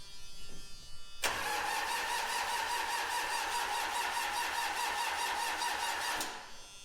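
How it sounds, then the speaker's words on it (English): A 1995 Gehl diesel engine cranks steadily for about five seconds without catching, a rapid rhythmic starter churn that starts abruptly and then cuts off, loud and close with no voices. "So let's crank."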